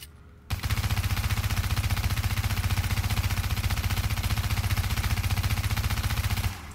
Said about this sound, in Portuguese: Você consegue descarregar muito rápido, olha lá.